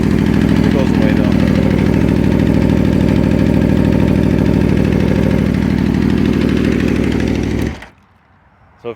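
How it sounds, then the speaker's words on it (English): A 2011 Aprilia RSV4 with a Dominator R exhaust idles loud and close with a steady lumpy rumble and a faint tick, then cuts off abruptly near the end. "I got the Aprilia tick."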